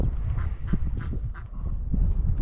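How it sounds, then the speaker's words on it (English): Ducks quacking on a small Montana cattle farm on a cold, windy spring day, with a few short honking calls rising over steady low wind rumble. "Those ducks are just weird."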